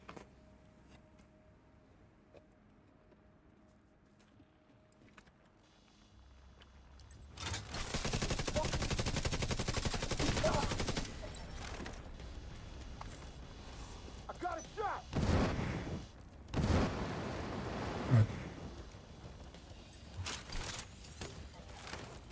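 Automated turrets fire in a video game, sustained loud bursts of rapid gunfire that start after a quiet stretch and return in several separate volleys of varying length, close and dense.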